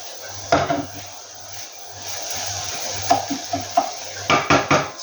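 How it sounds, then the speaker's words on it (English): Onions browning in a pot for lamb karahi, stirred with a utensil that knocks and scrapes against the pot in irregular bursts over a soft background sizzle. "The onions are starting to brown a little now."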